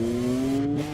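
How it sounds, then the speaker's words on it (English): Factory Aprilia MotoGP motorcycle launching from a practice start at the Czech Grand Prix, a loud close engine drone with a steady rising pitch held for about a second, with no talk over it. "There's just another blistering launch by Marco Bezzecchi's factory Aprilia"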